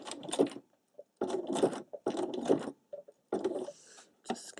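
Sewing machine running in short bursts while satin-stitching tulip shapes in fabric, each burst a rapid buzzing needle rhythm lasting about a second, separated by brief pauses as the fabric is repositioned, close and clear.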